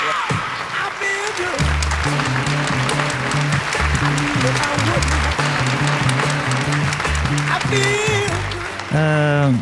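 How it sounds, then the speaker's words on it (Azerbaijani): A studio audience at a television show applauds loudly in a sustained wash of clapping, with music playing underneath. "Alqışlarınız."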